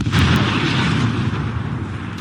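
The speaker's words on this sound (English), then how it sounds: "Just look at how this powerful artillery unit destroys Ukrainian trenches." Artillery fire and explosions striking trenches in the Ukraine-Russia war: a sustained, heavy, roaring rumble with a couple of sharper pops near the start, loud and unbroken.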